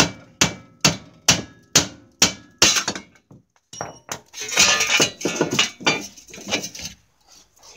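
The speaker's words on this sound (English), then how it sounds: "I'm about to finally knock it off. Let me get my hammer." Sharp metallic hammer blows knock off a rear wheel bearing on a 2013 Ford Focus in a steady rhythm, then turn into a faster, clattering flurry of heavy knocks on metal.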